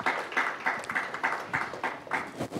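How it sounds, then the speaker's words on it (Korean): Audience applause for a presenter at a transport-sector carbon neutrality forum in Gwangju, a steady run of clapping bursts of moderate loudness with no talk over it. "다시 한번 큰 박수 부탁드립니다"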